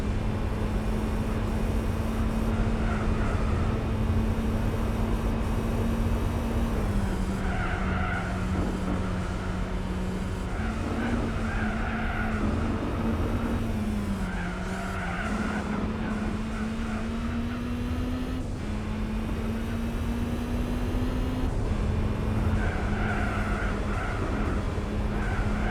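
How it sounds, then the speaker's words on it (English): Gran Turismo 4 racing game car engine droning steadily throughout with a rising and falling whine layered on top, plus intermittent tire noise, loud and continuous with no talking. "It's funny hearing those turbo whines in a car like this."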